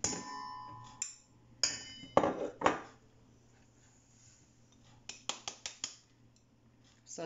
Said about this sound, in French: Dans l'autre saladier je mélange beurre avec le sucre